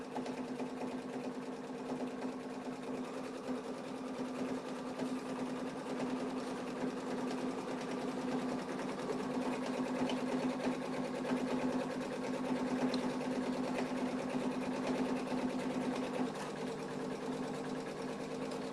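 Embroidery machine stitching a tack-down double run on a mug rug, a continuous fast mechanical whir and rapid needle chatter, steady and fairly quiet throughout with no talking.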